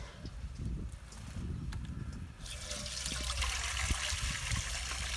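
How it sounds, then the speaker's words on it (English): Water on a farm in Jamaica being caught and used to rinse out a container, starting as a low trickle and splashing, then swelling into a louder, hissing stream of running water that continues steadily. "So we're catching some water, rinsing out this."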